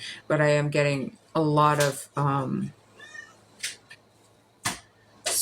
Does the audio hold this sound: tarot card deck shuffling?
no